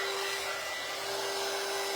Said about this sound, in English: I suggest the heat gun